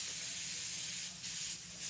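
Airbrush spraying dark paint while shading a tornado artwork, a steady close hiss with two brief dips where the trigger eases off before spraying resumes.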